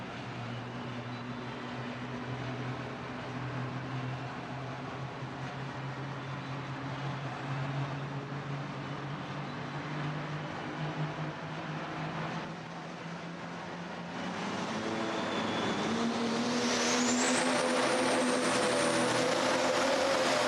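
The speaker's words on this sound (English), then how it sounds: "listen to the RPMs as he starts to build the boost" Truck pulling engine at an NTPA indoor pulling event at Freedom Hall, a loud sustained roar that holds steady then climbs sharply in pitch as the turbo spools and boost builds, with a rising whine near the end.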